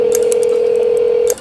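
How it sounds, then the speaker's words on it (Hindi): Steady dial tone of a phone line connecting inside a horror video game, holding evenly for over a second with faint chirps above it before cutting off abruptly. "हाँ हाँ, फ़ोन लग रहा है,"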